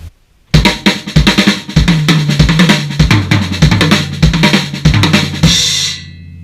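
Drum kit playing an RLRLLK lick up to speed, a fast dense run of kick, snare and tom strokes with ringing cymbals, closing on a loud crash that fades out.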